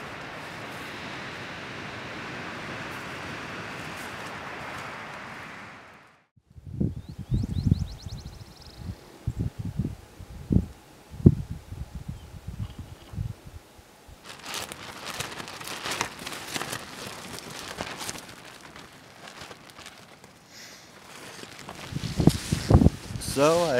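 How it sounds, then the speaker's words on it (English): Strong wind outdoors on the Pacific Crest Trail roars steadily at first, then gives way to gusty buffeting and rustling that swells and fades in uneven bursts. "but it is windy as fuck outside."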